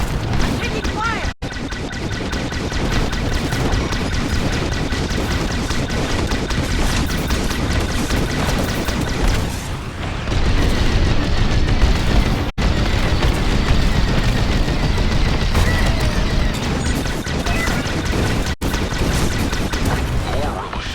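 Enemy gunfire and explosions rumble through a space battle in a galaxy-conquest video game, a dense, continuous barrage of booms and bursts lasting throughout, loud and close, with a brief lull near the middle before it resumes.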